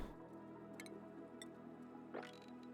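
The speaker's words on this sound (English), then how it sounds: "Where is all of this water coming from?" Dripping water in the Oxygen Not Included video game, a few soft wet drip and squish sounds over a steady game music and ambient hum, with one brighter rising splash-like sweep near the end.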